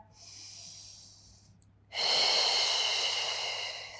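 Close, steady breathing during a hip mobility exercise: a soft, airy breath leads into a longer, stronger exhale that continues to the end, with no talk.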